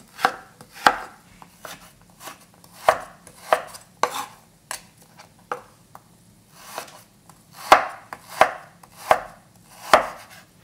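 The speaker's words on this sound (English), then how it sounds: "This is 8 ounce pork shoulder, but you can use also pork belly. Cut into really small cubes." A knife chops 8 ounces of pork shoulder into small cubes on a cutting board, with sharp, close knocks coming in uneven bursts and short pauses between them.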